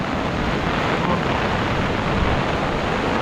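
A swollen river rushes in a constant loud roar under heavy typhoon rain and wind, a dense unbroken wash of water noise with no pauses.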